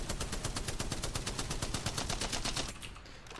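Rapid automatic gunfire from a Spitfire machine gun in a video game: a steady burst of evenly spaced shots that runs close and loud for about three seconds, then cuts off, with no voices.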